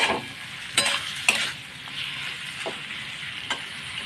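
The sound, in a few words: stirring chopped bottle gourd with spices in a pan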